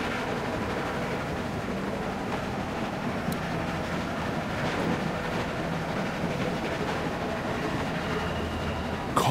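A train rolls steadily in The Walking Dead video game, its continuous rumble and faint rail clatter sustained throughout at even loudness with no talk.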